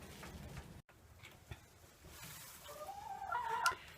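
Chickens in a coop cluck softly and intermittently over a quiet background, with a brief tick and a slightly louder burst of clucking toward the end.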